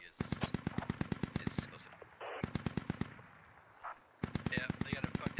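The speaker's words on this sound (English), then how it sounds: "And there's an MG." Machine gun fire in the video game Squad rattles in rapid bursts of evenly spaced, loud shots, with brief pauses between them and faint voices in the background.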